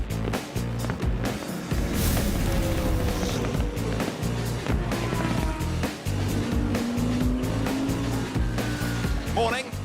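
GT3 race cars with a Lamborghini leading roar past in a continuous, loud engine drone with shifting pitch, under excited commentary during a GT World Challenge Europe race in Barcelona.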